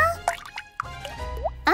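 Water drips and small plops in a children's Halloween adventure cartoon, a few scattered bright droplet sounds over about two seconds, close and fairly clear against light background noise.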